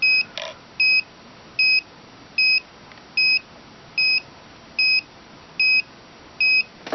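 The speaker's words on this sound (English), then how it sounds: "That beep is annoying." A pool robot's steering system emits a steady electronic beep, nine short identical tones repeating at an even pace of under a second apart, clear and moderately loud over a faint background hiss.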